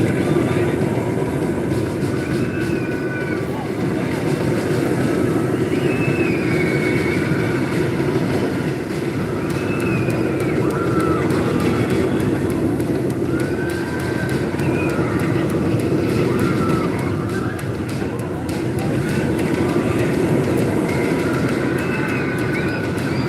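Roller coaster running along its track, a steady loud rolling rumble with clattering wheels and occasional squeals, sustained throughout with distant voices mixed in.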